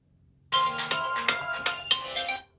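A Samsung Gear S3 find-my-phone ringtone plays as a bright, pulsing electronic chime of several rising beats lasting about two seconds, clear and alone in a quiet room.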